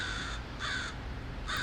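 Crows give three loud, harsh caws with short pauses between them, close and clear over a low outdoor rumble.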